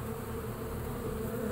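A few straggler honeybees buzz steadily close by at an emptied hive entrance in a corner where a hive was removed, a continuous low drone with no speech.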